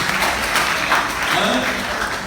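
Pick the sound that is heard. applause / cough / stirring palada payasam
applause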